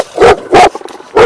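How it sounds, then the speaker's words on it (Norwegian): A big Caucasian shepherd guard dog barks three loud, close, deep barks, spaced with short gaps, with faint softer yips between them. "Jævla bikkje."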